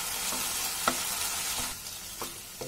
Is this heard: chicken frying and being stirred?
yes